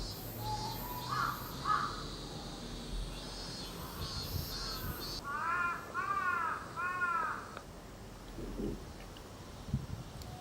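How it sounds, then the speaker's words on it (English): Crows caw in short repeated bursts at a distance in a Tokyo garden with trees and a small bridge, with a steady hum of cicadas underneath. "You can hear the crows"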